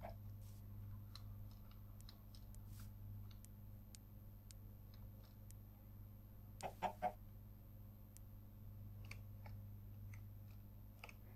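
A chicken in the Minecraft video game clucks in a short cluster of sharp calls partway through, over a steady low background hum with scattered faint ticks and clicks; no one speaks.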